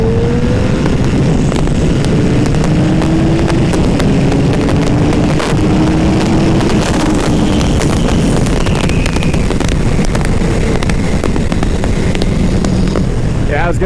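A motorcycle accelerating on the road and shifting up a gear at high speed, engine drone rising in pitch and then dropping at the shift, buried under heavy, loud wind roar at the helmet.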